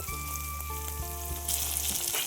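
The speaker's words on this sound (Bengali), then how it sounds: "আরও 2 মিনিট নাড়াচাড়া করে টমেটোটা দিয়ে দেবো" Garlic and green chilli fry in a pan with a steady sizzle, heard alongside a low steady hum and a brief louder burst of frying near the end.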